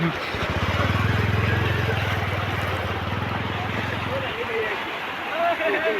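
A motorbike engine chugs steadily nearby as it rides through flood water in Hailakandi, Assam, then fades after about four seconds, with people talking over it and the wash of water around it.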